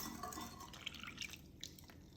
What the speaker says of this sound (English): I'm gonna add in the water that has been dissolved with salt